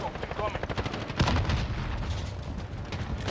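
Rapid, dense gunfire rattles continuously in a Modern Warfare match, loud and close, with a louder blast partway through and a voice speaking over the shooting.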